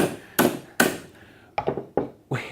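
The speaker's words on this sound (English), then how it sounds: "hit the end of it with a hammer." A hammer strikes the end of a spanner fitted to a fastener, landing about six sharp metallic blows in an uneven rhythm. The hits are close and loud, each ringing briefly before it fades.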